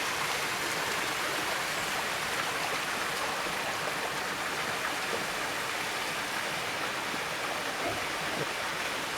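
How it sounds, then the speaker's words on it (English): A waterfall pours in a steady, dense broadband rush of falling water, constant and close throughout with no voices. "Up that waterfall, I dare you."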